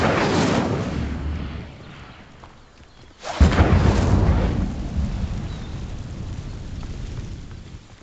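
A fire spell cast in the Hogwarts Legacy video game, heard as two loud rumbling whooshing bursts, the second erupting sharply around midway and trailing off into a roaring crackle.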